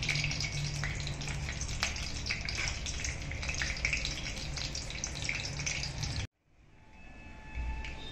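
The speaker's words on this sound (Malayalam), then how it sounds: "അത് കഴിഞ്ഞ് ഒരു കടുക് ഇട്ട് കൊടുക്കുക" Mustard seeds splutter and crackle in two spoons of hot oil in a pan, a dense, loud, continuous sizzle that cuts off abruptly near the end and gives way to a softer hiss.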